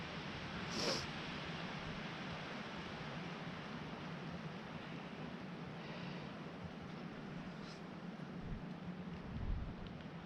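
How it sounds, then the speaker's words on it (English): Wind gusting through treetops during a blizzard warning with lake-effect snow in western New York, a steady broadband roar swelling slightly in gusts, with no voices. "Here comes another gust of wind."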